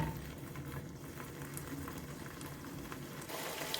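Egg and vegetable stew simmering in a pot, a steady low bubbling with occasional soft pops and spits, continuous and fairly quiet, with no talking.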